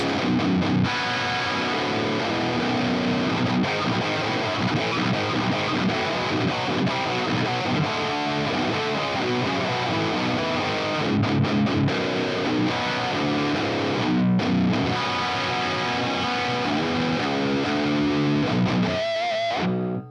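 Heavy distorted electric guitar through a Line 6 Helix modern metal rhythm tone plays chugging rhythmic riffs, dense and saturated, continuing steadily without voices.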